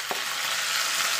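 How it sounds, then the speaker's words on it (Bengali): Tomato and ginger paste frying with browned potatoes in a pan gives a continuous, even sizzle, with a brief stirring scrape near the start and no talking. "টমেটো আর আদাটা একটুখানি নাড়াচাড়া করে নেব।"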